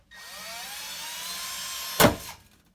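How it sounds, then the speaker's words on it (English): A steady high-pitched drill whine runs for about two seconds, then a brief harsh grinding burst as the bit bites through a sink for a faucet hole, fading quickly. "So you're drilling a hole through the sink."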